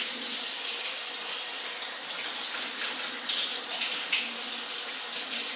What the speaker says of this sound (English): I'm going to quickly wash my hands because I did have the pork and the eggs.